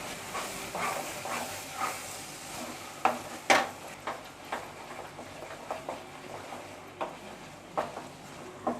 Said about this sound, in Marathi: आता हे आपल्याला सर्व साहित्य ना तेल सुटेपर्यंत चांगलं परतून घ्यायचं आहे